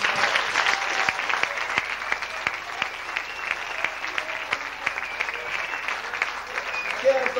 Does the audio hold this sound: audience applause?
yes